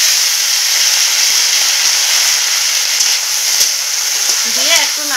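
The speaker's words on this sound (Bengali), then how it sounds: "এখন আমি কেটে রাখা বেগুন আর আলুগুলো দিয়ে দেব" Eggplant and potato pieces sizzle loudly in hot oil with browned onions in a pan, a constant close frying hiss with occasional soft clicks of stirring, and a voice briefly heard at the very end.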